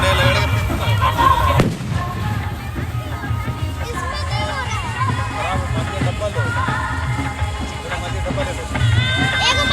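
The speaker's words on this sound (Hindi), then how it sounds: "थोड़ी देर के लिए ना हम भी पटाखा जला लेते हैं," Firecrackers go off at a river ghat during the Chhath festival morning, sharp crackling pops over a loud, busy outdoor crowd with people talking throughout.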